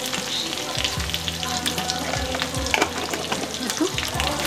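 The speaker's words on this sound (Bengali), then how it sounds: "এবার এটা একটু ফ্রাই করে নেবো," Capsicum, chilli and onion frying in a pan with a little salt, a loud, close sizzle broken by repeated scraping stirs.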